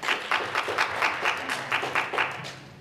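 Audience applause at a small business talk on a software product, a light, fairly quiet patter of clapping with a loose, pulsing rhythm and no voices over it.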